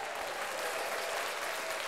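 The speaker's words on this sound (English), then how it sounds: "Clap for me." Audience clapping during a podcast episode, a steady dense wash of applause from many hands, loud and continuous with no talk over it.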